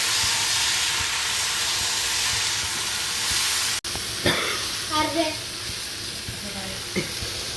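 Beef and ginger frying in a hot pan give a steady, loud hiss of steam and sizzle. A brief break comes midway, then a few soft clinks and scrapes of stirring.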